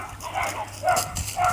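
Dogs let out a few quick, faint yips and barks at home, brief and slightly muffled under light background noise.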